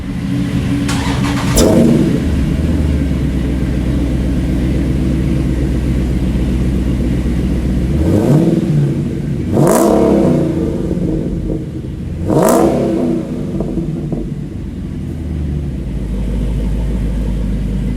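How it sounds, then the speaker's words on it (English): A car engine idles with a deep, muffled exhaust tone through Magnaflow XMod mufflers, then revs up sharply several times, each rev rising and falling back to a rumbling idle. "So we'll get a couple of revs here with the mufflers in"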